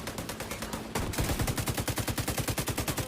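The Pestilence gun in a video game fires a rapid automatic stream of bullets, loud and close, with an even rattling rhythm of shots that steadies and intensifies after the first second.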